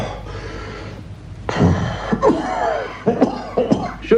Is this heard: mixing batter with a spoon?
no